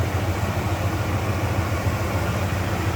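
A 1973 Buick Centurion convertible's 350 V8 with a four-barrel carburetor idles nearby, giving a steady, low, pulsing rumble that holds an even beat throughout.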